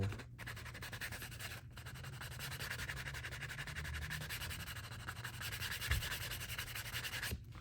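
Steady rubbing of a canvas bag buffed back and forth along the edge of a handmade leather passport wallet, a continuous soft friction hiss close up with no talk.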